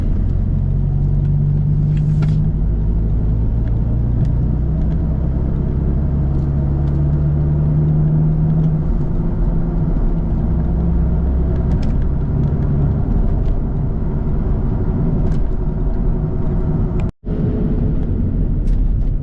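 A salvage BMW Z4 roadster drives along with its engine running, heard from inside as a loud, steady low drone with gentle rises in revs and a brief drop partway through, no voices.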